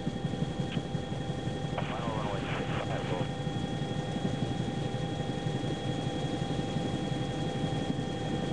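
A helicopter hovers low while coming down to land, its rotor and engine a steady, fairly distant drone and whine; faint radio chatter briefly cuts in near the start.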